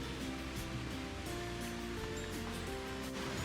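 A fresh rainwater stream flows in the mountains of Fort Munro, giving a steady, even rush of running water with no breaks and no talk.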